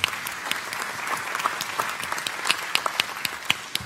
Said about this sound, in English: Let's have another round of applause for everyone who helped today.